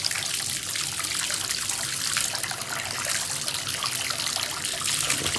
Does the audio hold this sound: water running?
yes